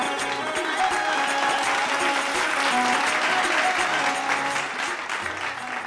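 Loud, sustained applause from a studio audience welcoming a contestant at a Punjabi singing competition semi-final, with a dense roar of clapping throughout that eases slightly near the end.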